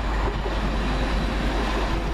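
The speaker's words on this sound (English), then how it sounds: "First train in, the 1335 cross-country service from Manchester Piccadilly to Bournemouth" CrossCountry train service from Manchester Piccadilly to Bournemouth arriving at Warrington station, heard as a steady, loud rumble of the train with broad noise throughout and no speech.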